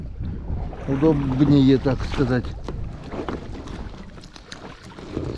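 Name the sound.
rowing a boat with oars in wind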